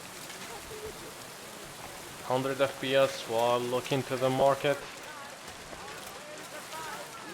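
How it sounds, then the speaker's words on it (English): Steady rain hisses continuously in Kingdom Come Deliverance 2, faint and even, with a person talking over it. "So yeah, it's raining."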